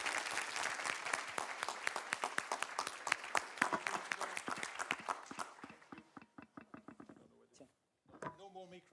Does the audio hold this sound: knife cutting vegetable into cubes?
no